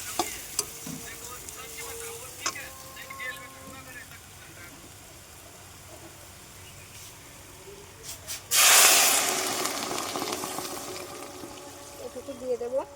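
Taro curry with cumin, coriander, garlic and chili paste simmering in a pan, with a loud burst of sizzling when water is poured in partway through, after quieter stirring and scraping; a voice talks over parts of it.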